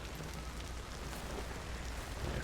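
Steady rain falls in the game Hunt: Showdown, a soft, even hiss of drops that stays faint and unbroken.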